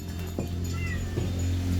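A cat meows a couple of times amid a steady low hum, with household sounds during a Thai family's morning meal, moderately close and not loud.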